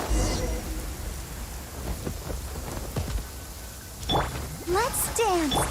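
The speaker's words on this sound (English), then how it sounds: "Must be started raining, then" Rain and thunder in the video game Genshin Impact: steady rainfall hiss with a few rumbling thunder cracks, joined near the end by bright chirping game effects, with someone talking over it.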